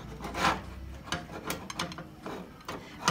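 A knife cuts through a rubbery sheet of fried milk skin on a board, giving a few short, close scraping and sawing strokes with quiet gaps between them.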